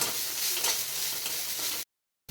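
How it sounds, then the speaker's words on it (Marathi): Masala with peanuts and chopped coriander roasting in a pan for bitter gourd curry, a steady close sizzle with soft stirring scrapes, running continuously before cutting to silence near the end. "एक मिनिटभर पुन्हा या मसाल्याला भाजून घेणार आहे"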